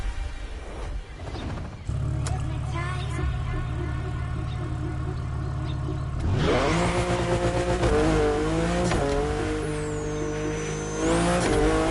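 A Ferrari LaFerrari hybrid supercar in The Crew Motorfest racing game: a loud, steady engine roar gives way to climbing revs with tire squeal and a sweeping whine, with no voices.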